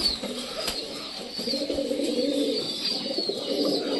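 Pet pigeons cooing continuously nearby, a soft throaty rolling coo repeating over the whole stretch with faint rustles and bird chatter, no speech.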